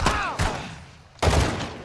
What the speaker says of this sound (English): I one-shot him with a pistol